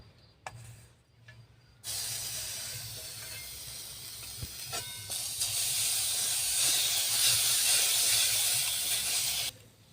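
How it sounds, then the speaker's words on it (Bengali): Crushed ginger hits melted sugar in a pan while fried tea is made, giving a loud sustained sizzling hiss that starts suddenly after a few faint clatters and runs on before cutting off near the end. "এবারে আমি আদা ছাঁচাটা এর ওপর দিয়ে দেব"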